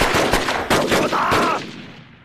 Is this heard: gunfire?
yes